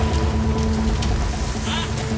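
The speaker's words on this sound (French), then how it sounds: "Il pleut de plus en plus." Heavy rain pouring during a roadside recovery of a crashed refrigerated truck, a dense steady hiss of drops with low rumbling background noise and faint distant voices.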